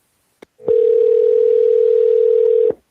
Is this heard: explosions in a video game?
no